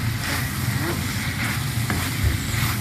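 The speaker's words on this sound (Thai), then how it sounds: "แล้วก็ผัดไป" Constant loud sizzle of chicken stir-frying with holy basil in a hot pan, with scraping and stirring noises close by and no talking.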